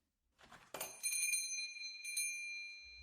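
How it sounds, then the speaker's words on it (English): A shop door chime rings as a customer enters, with a bright bell-like tone that sustains and rings again after a scuffle of movement, alone and fairly close. "Tom jumped when the door chime rang."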